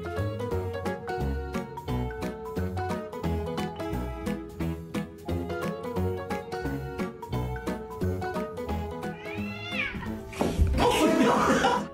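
A cat meows amid busy background music in a compilation of funny cats and dogs, the calls recurring under the steady musical bed before a louder noisy burst near the end.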